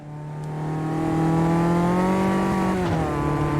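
A 1.6-litre front-engined, rear-wheel-drive Caterham race car in the Automobilista 2 sim, its engine revving up into a loud, steady drone, then a brief dip in pitch as it shifts, heard up close.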